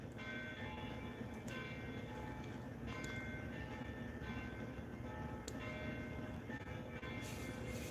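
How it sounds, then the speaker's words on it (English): Church bells ringing from across the street, repeated tolls sounding fairly distant over a steady low rumble of background noise. "Hey, do you hear the bells?"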